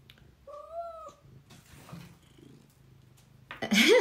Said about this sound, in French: Elle ronronne dur là.